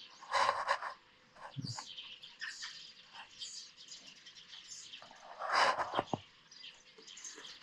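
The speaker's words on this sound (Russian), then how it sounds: "Птицы стрекочут." Birds chirp outdoors around an enclosure area as snow melts, with bursts of bright tweets and calls at about 0.5 and 5.7 seconds and quieter intermittent chirps between, fairly faint overall.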